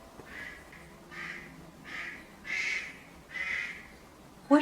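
A duck outside quacks repeatedly in a steady series of five or six loud, harsh calls that grow stronger toward the end, with a brief sharp noise at the close.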